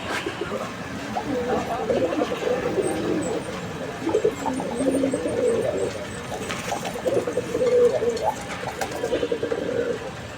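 Red Gorra pigeons at a pigeon farm coo in low, repeated throaty phrases close by, with people talking over them throughout.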